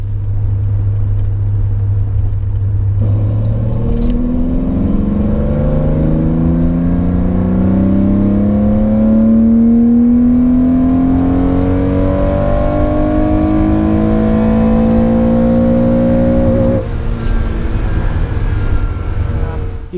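Porsche 911 2.8 RSR race engine pulling hard through third gear on its original exhaust, a loud continuous rising drone that climbs steadily in pitch for about fourteen seconds before dropping off sharply.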